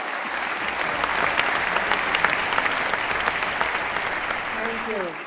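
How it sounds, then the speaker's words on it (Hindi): Steady, dense audience applause fills a large hall at the Dadasaheb Phalke Award ceremony as the actress is welcomed, continuous and loud throughout, with a brief voice at the very end. "जोरदार तालियों से स्वागत करें वहीदा जी का."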